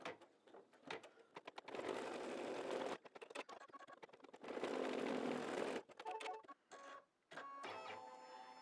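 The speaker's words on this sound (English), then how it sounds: "we're going to stitch the stitching that's on the ball" An embroidery sewing machine stitches red thread into a ball design on a mug rug, its rapid mechanical whirring coming in several bursts separated by short pauses and slower clicking between runs.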